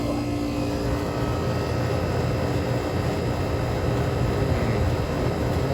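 An oversized air conditioning system runs with its condenser fan motor going, making a loud, steady, broadband whirring roar that holds constant throughout without speech.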